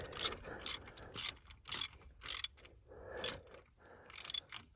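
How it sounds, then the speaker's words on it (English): A hand ratchet clicks in quick repeated strokes while tightening a bolt on a 1992 Ford F250 with an IDI diesel, the bursts close and fairly quiet, with short pauses between them. "Found the ratchet, tightening this down."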